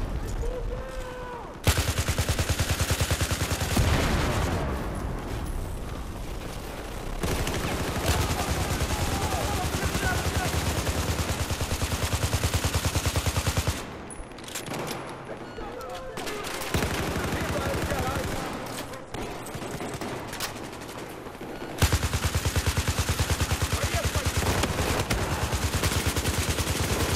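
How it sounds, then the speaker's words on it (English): Type 88 light machine gun firing in Battlefield 4, heavy sustained automatic bursts mixed with other battlefield gunfire and explosions, loud and dense throughout with brief quieter gaps. "I love this gun. This is a good light machine gun. Type 88."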